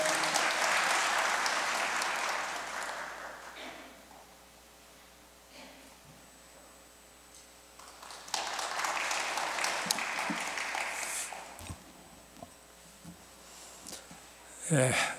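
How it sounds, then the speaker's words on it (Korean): Warm welcoming applause from a church congregation greeting an elder coming forward, with a loud burst of many hands at the start that fades to quiet and then swells again midway, with faint breathing and room noise. "큰 따뜻한 환영의 박수 부탁드립니다"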